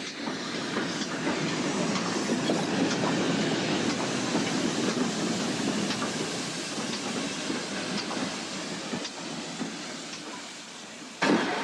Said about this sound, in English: In the station, the signalman prepares to exchange tokens with the incoming locomotive.